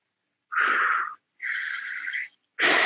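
Heavy, forceful breaths during a hip and shoulder mobility exercise, three long strained exhalations with short silent gaps between, close and loud, no talking.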